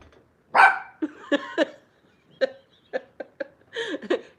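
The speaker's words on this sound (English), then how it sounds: "What you barking at?" A dog barks in about ten sharp, close bursts, some in quick clusters and others spaced by short pauses, with little else audible around them.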